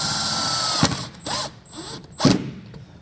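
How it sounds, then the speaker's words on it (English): A power drill drives self-tapping screws to mount a 5th wheel/gooseneck wiring harness with a 7-way connector on a vehicle, in two or three brief close whirring bursts separated by pauses, heard alone without talk. "And then we're gonna take our self-tapping screws and get this mounted up."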